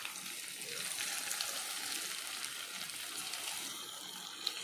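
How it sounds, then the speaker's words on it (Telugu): Chicken pakoda pieces go into hot oil and give a faint, even, steady fizzing sizzle with a small clink near the end, no voices. "నూనె కాగిపోయిందండి. చికెన్ పకోడాకి వేస్తూ ఉన్నానండి."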